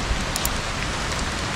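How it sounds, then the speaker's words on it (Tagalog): Heavy rain pours down on the old zigzag road near Atimonan, Quezon, a dense continuous patter with a few louder drops, steady and fairly close. "Nako, lakas ng ulan. Ayun, biglang lumakas ang ulan."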